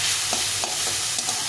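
Radish greens are stir-fried with salt and turmeric, a continuous bright sizzle close by with several soft scraping stirs of a spatula through the pan.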